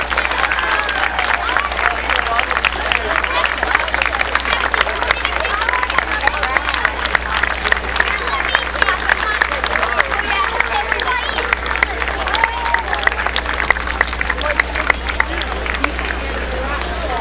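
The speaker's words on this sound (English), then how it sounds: "Let's all stand and give it a very wide, warm applause for the flag." A standing crowd at a 1991 Brantford civic ceremony applauds the raising of the new city flag. Dense, continuous clapping from many hands fills the room at a steady loudness for the whole stretch, mixed with murmured crowd noise.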